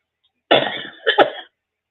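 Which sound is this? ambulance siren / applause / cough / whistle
cough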